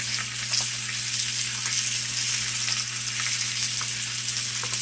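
Ribeye steaks sauté in butter in a hot pan, giving a steady, loud, continuous sizzle and crackle close by with a low hum underneath and no talking.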